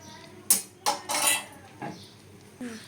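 Metal clatter from a lid going onto a pot of figs boiling in turmeric water: a few sharp clinks and scrapes close by, with short bursts of rattling and a faint clank after.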